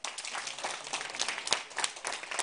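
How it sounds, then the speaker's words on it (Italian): A group of students claps for their teacher at a school event, a fairly faint, brisk burst of applause with scattered individual claps. "Un applauso alla prof"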